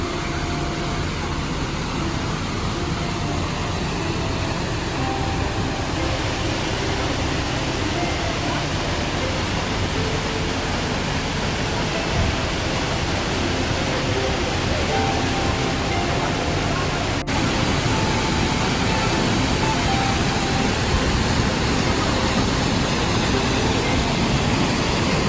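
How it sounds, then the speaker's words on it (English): Kesarval waterfall near Verna in South Goa sends up a steady, dense rush of falling water. The roar stays loud and unbroken throughout, heard from close by. "There's the waterfall."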